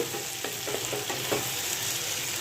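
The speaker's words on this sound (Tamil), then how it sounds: "சேர்த்து கொஞ்சம் கிளறி விட்டுடலாம்" Chutney ingredients fry in a hot pan for Kara chutney, giving a dense continuous sizzle, with a quick series of spatula scrapes and taps as they are stirred; no one speaks.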